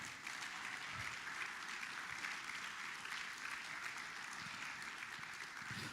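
A church congregation applauds in steady, sustained clapping that fills the room evenly for several seconds, moderately distant with no break.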